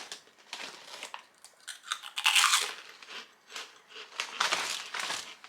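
Small puffed Danish snack crackers, shaped like tiny prawn crackers, crunch in a series of close, crisp bites and chews with irregular bursts of dry crackling and no talking.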